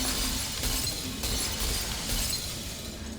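Glass shatters in the video game Portal 2, a loud, bright spray of breaking shards that crashes in repeated bursts and rings on for about three seconds with no talk over it.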